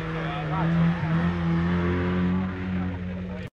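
A Yugo race car at the 2010 Buzet hill climb drones steadily with rising and falling pitch as it passes close, loud and continuous before cutting off abruptly.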